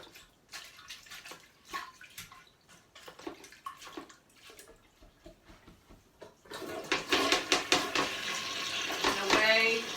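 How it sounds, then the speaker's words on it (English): An ergonomic toilet brush swishes water around a toilet bowl during a green cleaning routine, first as scattered splashes, then a sustained, louder churning slosh near the end, with a voice talking briefly early on. "got my ergonomic toilet brush here. Swish that around"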